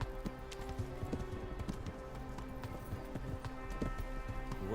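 Steady clip-clop of horse hooves on a road in Kingdom Come: Deliverance, a medieval video game, with close, continuous hoofbeats and a faint rain-like patter in the background.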